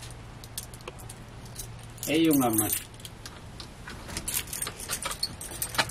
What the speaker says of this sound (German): Ach, falscher Schlüssel.